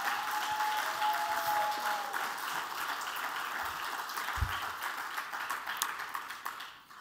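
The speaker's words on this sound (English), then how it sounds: "So let's give a great big round of applause to them" Sustained audience applause at a closing ceremony, a dense steady wash of many hands clapping that holds for several seconds before gradually thinning out, with a faint tone lingering near the start.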